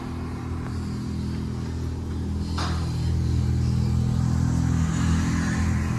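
A 2016 Chrysler 300 S V6 with dual straight-pipe exhaust rumbles at idle, then revs, with the deep droning tone rising and staying louder through the second half; no voices are heard.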